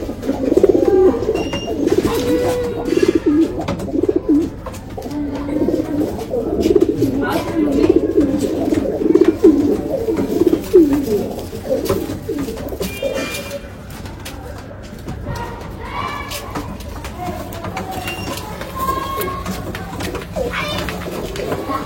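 Rampuri pigeons coo in low, throaty rolling phrases over a long stretch, close by and fairly loud, with scattered clicks and handling noises and a voice talking at times.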